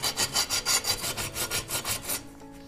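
Old glue residue is sanded off a broken household ornament in about a dozen quick, even back-and-forth scrubbing strokes, close and rhythmic, then it stops.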